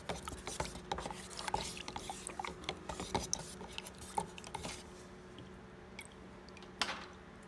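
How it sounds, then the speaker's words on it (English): A mixing stick scrapes and swirls through a can of BMW E92 metallic paint, giving soft irregular wet clicks and rubbing strokes close by, quiet and steady, with no talking. "And get your stick. Just mix it about."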